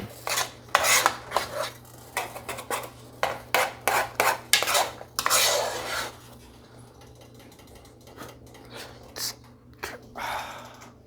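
Pots, pans and cutlery clatter and scrape on a stove while rice is burning, with irregular bursts of metallic knocks and rasping scrapes close by, easing off toward the end.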